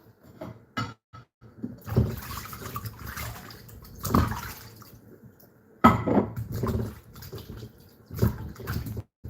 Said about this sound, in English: Rinse the vegetable.